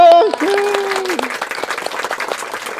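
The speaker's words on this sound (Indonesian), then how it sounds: "Tepuk tangan dong." Studio audience at an Indonesian talk show breaks into applause for a guest star, following a host's spoken introduction; dense, sustained clapping fills the rest, with voices briefly at the start.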